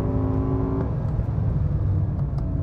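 A powerful BMW M5 V10 engine hums and growls steadily at close range, a low, sustained drone with no speech.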